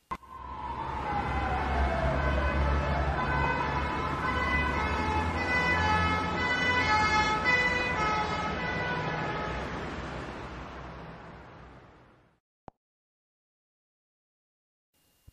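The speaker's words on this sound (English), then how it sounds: "An ambulance has a special siren and flashing lights to warn people to get out of the way." Ambulance siren wailing continuously for about twelve seconds, loud and close, then cutting off abruptly, leaving near silence.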